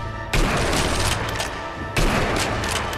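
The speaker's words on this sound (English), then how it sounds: "So many bullets. Bad accuracy with the blind fire." Blind-fire gunshots in the video game Sniper Elite V2, two loud bursts of rapid gunfire, each followed by a brief fading rumble, with no talking.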